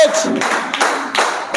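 An audience at a company celebration claps briefly as people are called onto the stage, a few rhythmic bursts of massed clapping close by.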